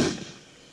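A single gunshot fired at a distant velociraptor in the Trespasser video game, a sharp loud crack at the start that decays into a fading tail, with no talking.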